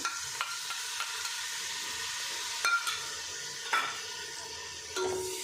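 A spoon works beaten curd into vegetables for masala veg pulao in a pot, with a soft, steady sizzle and a few distinct metallic clinks against the vessel.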